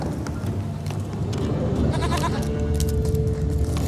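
A goat in The Witcher 3 bleats from close by in several short cries over a steady game ambience, with no talking.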